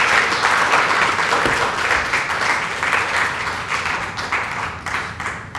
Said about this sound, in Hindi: एक बार जोरदार ताली से स्वागत करिए।